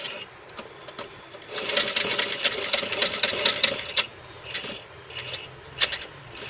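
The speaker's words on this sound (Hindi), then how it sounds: "देखिए कैसे स्टिच कर रही हूँ मैं।" A sewing machine stitches a suit or kurti along curved design points, running in a steady rapid clatter that starts and stops in short bursts, loudest in the middle, with no talking.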